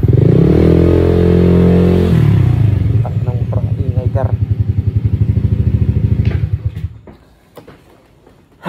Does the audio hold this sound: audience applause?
no